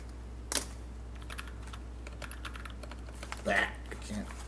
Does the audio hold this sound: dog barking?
no